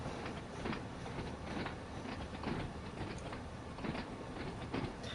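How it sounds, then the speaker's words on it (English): Class 483 electric multiple unit in Train Sim World 2 running with rhythmic clickety-clack of wheels over rail joints and a steady rolling rumble as the brakes come on, moderately loud and continuous with no talking. "The brakes coming on, so all the sounds are authentic."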